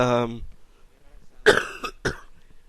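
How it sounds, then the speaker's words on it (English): A voice trails off, then two sharp, loud coughs follow a short pause, close to the listener. "coughing fit here"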